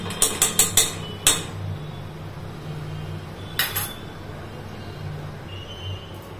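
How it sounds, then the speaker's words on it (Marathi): A spoonful of ghee goes into a pan for a sattvic no-onion, no-garlic meal: a quick run of metallic spoon-on-pan clinks, one more clink, then a later pair of taps over a low background hum. "आता इथे मी 1 चमचा तूप घालते"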